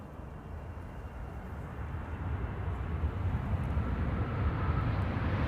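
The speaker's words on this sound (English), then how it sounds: "This is Qatar Cargo flight 8201," A Qatar Cargo plane arriving from Doha at Amsterdam Schiphol, a broad rumbling jet roar that swells steadily louder throughout, distant but approaching, with no voices.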